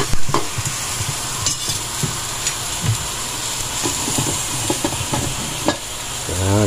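Pork sizzling in a pan for adobo, a loud continuous frying hiss broken by repeated scraping and clattering stirs, close by with no talk.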